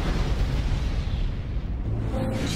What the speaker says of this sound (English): Then I heard gunshots.